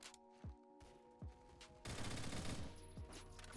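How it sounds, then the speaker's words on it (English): Gunfire in the Roblox game Phantom Forces, with the new FAMAS featured: scattered single shots, then a dense burst of rapid automatic fire that fills the middle stretch before easing back to occasional reports. "I thought that was my teammate shooting, dude."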